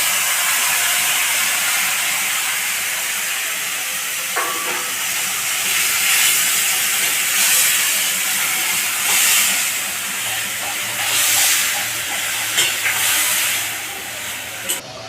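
Boiled taro greens drop into hot oil with dried chilli, garlic and nigella seeds, setting off a loud, steady sizzling hiss that swells and fades in waves as the greens are stirred, with no voices over it.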